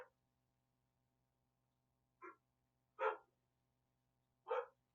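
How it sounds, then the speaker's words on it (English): Three sharp barks from a dog, spaced a second or so apart, heard clearly against a quiet background with a low hum. "barking at something"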